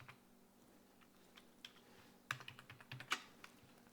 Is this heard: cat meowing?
no